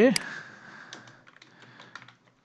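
Typing on a computer keyboard, a short run of light, irregular key taps following a brief burst of speech, fading toward the end.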